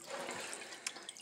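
Water drips and trickles off a synthetic wig as it is lifted from a gentian violet bath, a soft wet splashing with a couple of distinct drops near the end.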